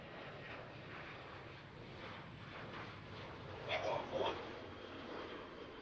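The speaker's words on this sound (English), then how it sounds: "All right, here comes the P-8 again." A Boeing P-8 aircraft passes during touch-and-go practice at Harrisburg airport, its steady engine roar filling the whole stretch at moderate distance, with light wind noise and no talk.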